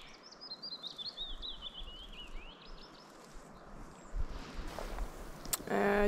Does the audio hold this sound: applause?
no